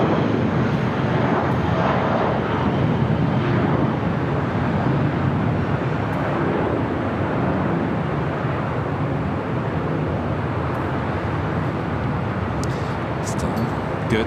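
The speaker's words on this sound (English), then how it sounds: "Old America West A319." An old America West Airbus A319 airliner at LAX gives a loud, continuous jet roar that stays strong and steady throughout, close by and with no other sound over it.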